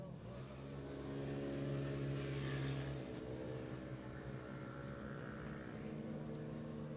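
Race car engines roar steadily on a track during a main event, a loud sustained drone that swells as the cars pass and then settles into a continuous rumble.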